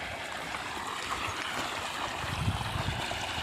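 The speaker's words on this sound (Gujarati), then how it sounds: "તો બતાવું તો અહીંયા આપણી મોટર હાલે" Water gushing from a running irrigation pump motor on a farm, a steady, continuous rushing wash that stays fairly faint and even throughout, with no talking.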